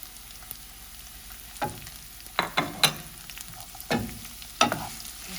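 Onions frying with cooked garlic in a pan for vegetable lasagna sauce give a low, faint sizzle, broken by several sharp scraping and stirring knocks spaced a second or so apart.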